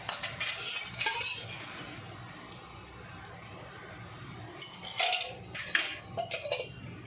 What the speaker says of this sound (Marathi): हे सगळं मिश्रण आपल्याला एकसारखं हलवून घ्यायचं अशा प्रकारे